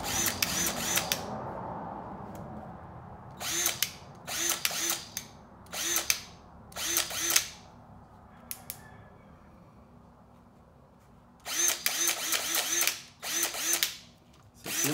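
Bauer 1792C-B1 half-inch hammer drill driving a screw, several short whirring bursts with ratcheting pulses between quiet pauses, close and fairly loud.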